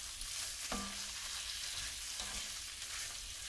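Swiss chard greens cook down in a pan with oil, making a soft, steady sizzle and hiss, faint and even, with a couple of brief tonal clinks.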